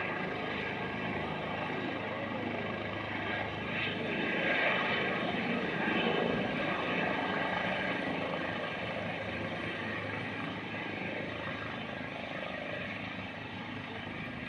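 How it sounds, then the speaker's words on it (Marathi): A landing helicopter's rotor and engine drone steadily nearby, kicking up dust, a loud continuous whirring roar that swells slightly midway and holds throughout. "हेलिकॉप्टर लँड होतेवेळी पहा किती धूळ वगैरे पसरले सगळीकडे"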